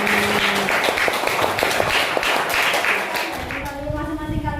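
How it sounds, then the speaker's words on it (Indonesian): Classroom applause for a student group after their presentation, dense clapping throughout under a sustained voice and background noise, fairly loud and close. "Kasih tepuk tangan untuk kelompok"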